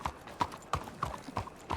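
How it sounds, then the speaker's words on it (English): Horses trotting in a video game: steady, loud hoofbeat clip-clops in a regular rhythm, close, with a faint whinny and no clear talk. "Call our horses."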